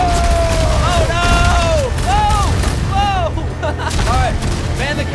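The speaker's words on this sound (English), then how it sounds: "Alright, man the cannon! They're shooting back!" Ship cannon fire in the pirate game Sea of Thieves: booms and gunfire-like blasts within loud, continuous battle noise, with excited voices shouting over it throughout.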